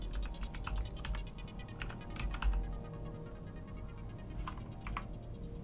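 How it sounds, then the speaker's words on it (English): Someone types on a computer keyboard while playing the puzzle game The Fool's Errand, tapping out scattered keystrokes in uneven bursts over a constant low hum, close and fairly quiet with no talking. "But let's just type in."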